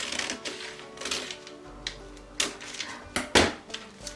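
Scissors cut through a paper sewing pattern with a series of crisp, close snips and clacks, spaced irregularly and growing sharper toward the end, with no talking.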